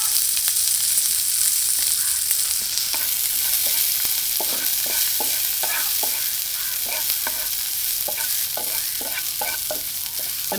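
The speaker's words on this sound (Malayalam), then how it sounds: "എണ്ണ ചൂടായിട്ടുണ്ട്. അതിലേക്ക് നമുക്ക് ഒരു 2 ടീസ്പൂൺ ഇഞ്ചി, 1 ടീസ്പൂൺ വെളുത്തുള്ളി, 3 പച്ചമുളക് കീറിയത്" Ginger, garlic and slit green chillies fry in hot oil with a steady broadband sizzle, punctuated by repeated sharp clicks of a spoon stirring and scraping the pan, close and continuous with no talking.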